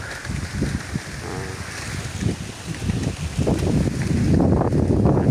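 Gusty wind on a small coffee farm buffets the microphone in low rumbling bursts, growing stronger and more constant toward the end, with faint water movement beneath.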